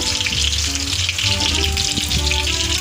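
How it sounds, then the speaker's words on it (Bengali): Soybean chunks frying in a pan of hot oil, a strong continuous sizzle with bubbling crackle, close and steady, no talking. "সোয়াবিন আমার ভাজা চলছে।"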